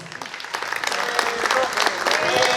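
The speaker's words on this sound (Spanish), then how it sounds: "Fuerte los aplausos para los novios." Wedding guests applaud the newlyweds at their reception, a steady close burst of clapping from a crowd with voices mixed in.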